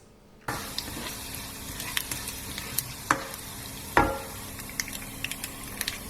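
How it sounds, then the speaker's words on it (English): Asafetida stirred into sizzling garlic in a frying pan while cooking a beans and potato masala fry: a steady close sizzle with scattered spoon-on-pan clinks and a couple of sharper scrapes, no voices. "you're going to add your Asafetida and give that a little mix."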